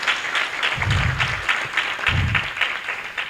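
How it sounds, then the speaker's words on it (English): An audience at an annual meet and greet applauds the event organizers, a steady burst of many hands clapping together at moderate loudness for a few seconds. "can we also just give a round of applause to the organizers of this event"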